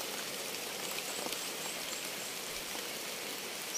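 Steady rain falls in a continuous, even hiss, like heavy drops on surfaces outdoors, with no voices or other clear sounds.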